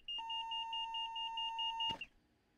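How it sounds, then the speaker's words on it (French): A TGV train cab in the video game Train Sim World 4 sounds a steady, high electronic warning beep with a fast pulsing tone for about two seconds, then a short click ends it. The beeping plays alone, with no talking. "Ah, il a fait bip bip tout seul."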